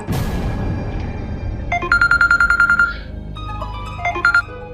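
An electronic phone ringtone plays two bursts of rapid repeating beeping tones, loud and close, with no one speaking.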